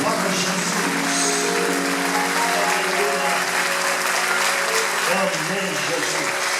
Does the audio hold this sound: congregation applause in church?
yes